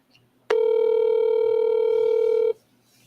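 A telephone ringback tone on an outgoing call to a real estate seller: one steady tone sounds for about two seconds, then stops, against a quiet background.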